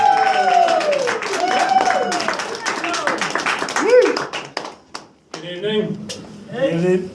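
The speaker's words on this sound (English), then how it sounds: "just give him a huge round of applause for Mr. Frank Avocado O'Connor" An audience at a comedy night in a harbour theater claps and cheers, with crisp hand claps mixed with whoops and shouting voices, briefly dipping before more cheering rises again.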